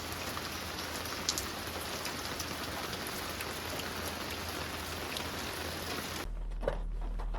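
Rain falls steadily on a campsite while it is being packed down, a soft even patter with occasional louder drops close by, until it stops abruptly near the end.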